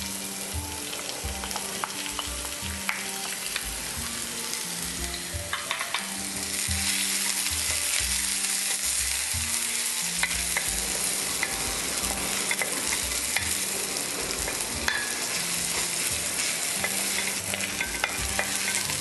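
Onions sizzling and crackling in a hot pan while being stirred, a close, steady frying hiss that grows louder midway, with scraping utensil knocks and no talking.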